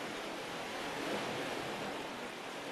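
Faint, steady wash of sea waves below a coastal cliff path on the Fife coast, a soft continuous rushing surf heard from above, with light wind noise and no talk.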